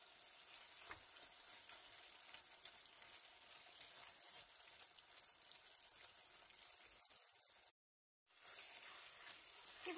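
Tomato paste sizzles and fries in a cooking pot for green beans with meat, a steady soft crackle throughout with a brief cut of silence near the end.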